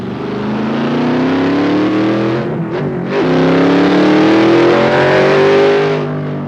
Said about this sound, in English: This sound that we're hearing here is the sound of a Assetto drive car called a Ford GTX-1